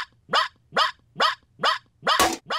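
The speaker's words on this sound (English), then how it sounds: "Robo puppy commencing 2-hour yipping session." A robotic toy puppy yips in a fast, regular series of six sharp, high electronic barks, close and loud, with a faint steady hum between the yips.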